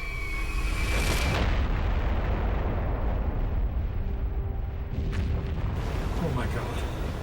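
The Little Boy atomic bomb explodes over Hiroshima with a deep, sustained roar and rumble that fills the whole stretch. Crackling bursts and a faint tonal sweep cut through the din.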